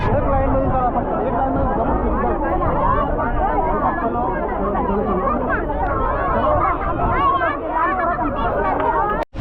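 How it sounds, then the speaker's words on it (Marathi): A dense crowd packs a busy bus stand, producing loud, steady chatter and babble from many overlapping voices that continues throughout without a break. "इथं सेकंद सेकंदाला बस येतात तरी पण इथं गर्दी होतंय"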